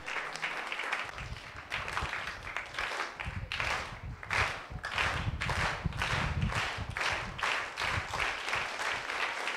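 A congregation claps at a thanksgiving mass in a Vijayawada-area parish: steady, rhythmic group applause in even beats that carries on throughout, fairly close and clear with no talking.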